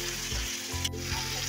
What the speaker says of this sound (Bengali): আমি এই মাংসটা দিয়ে এবার একটু কষি